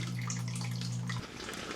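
Water rushes steadily into a cabin, a constant close wash of flow with a low mechanical hum beneath it that cuts off partway through while the water keeps running.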